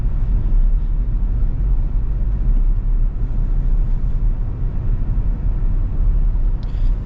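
Steady, loud road rumble and engine drone from a 2026 Toyota Tacoma pickup cruising along, a continuous low roar with no talk.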